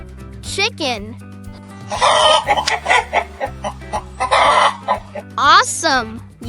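A chicken clucks in repeated bursts over a steady music bed, with a spoken voice briefly naming it near the start and end.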